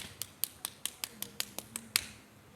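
A single person demonstrates a clapping signal with their hands, as done during prayer: about ten short, sharp, evenly spaced slaps, close and fairly quiet, with no talking.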